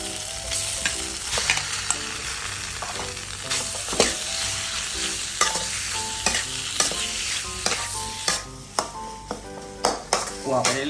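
Pork cartilage stir-fries in a pan for a southern Thai curry-paste dish, with a steady close sizzle and frequent sharp clinks and scrapes of a utensil against the pan.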